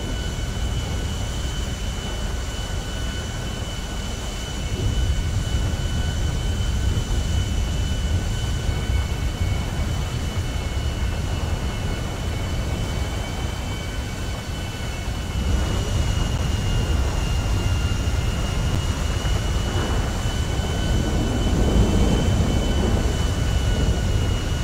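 Steady airliner engine drone inside a GTA V flight, a continuous low roar with a faint high whine held evenly throughout, loudness swelling slightly partway through, no voices.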